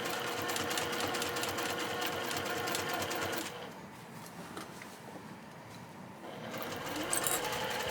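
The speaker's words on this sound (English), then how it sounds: "We're going to stitch back and forth on our handles a couple of times." A sewing machine runs steadily as it stitches back and forth across the handles of a Swoon Expedition tote bag, its fast whirring dropping to a quieter pace midway before speeding up again near the end.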